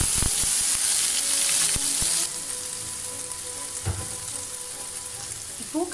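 Garlic, ginger and green chili fry in hot oil with a dense, steady sizzle, loud at first and then settling lower, broken by a few close utensil clinks and stirring scrapes.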